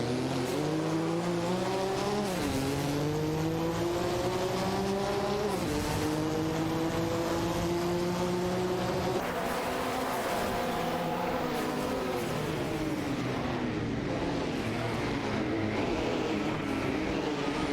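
Race car engines from a racing video game, a Porsche 961 LM and an Oldsmobile Cutlass SCCA, drone steadily with rising and falling pitch as the cars shift and corner, loud and continuous for the whole stretch with no talk.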